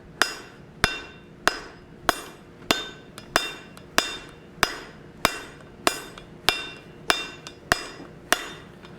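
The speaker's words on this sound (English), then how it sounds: "Come out to the anvil, and we're gonna start working the tall side." Hammer blows ring out on hot steel at an anvil while a forging hammer head is being made, about fifteen sharp, evenly spaced metallic strikes, loud and close, each with a brief bright ring and no talking.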